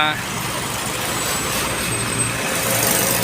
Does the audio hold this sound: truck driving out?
yes